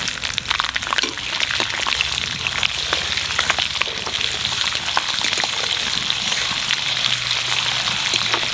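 Whole garam masala and garlic cloves frying in oil for mutton curry, a dense close sizzle with constant crackling pops, steady and loud throughout, with no one talking.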